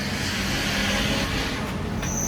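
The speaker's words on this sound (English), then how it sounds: "Trash trucks. They're literally stopping outside of our house." Garbage trucks idle outside a house, a steady low diesel rumble with broadband road noise throughout and a faint high brake-like whine near the end.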